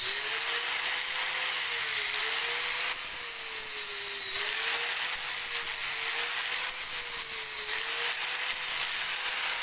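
A grinder carves a shallow groove into a wooden support to seat bearings, giving a continuous harsh abrasive roar with a motor tone that dips and recovers as pressure changes, loud and close with no voices.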